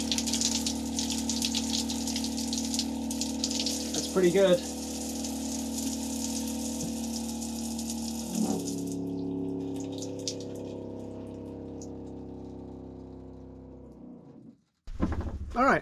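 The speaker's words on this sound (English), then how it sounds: "Hot water, running water, pump on demand, very noisy pump." A loud, steady mechanical hum of an on-demand electric water pump in a rainwater-fed off-grid shower, with gushing water, runs throughout, briefly under a short spoken remark, then cuts off near the end.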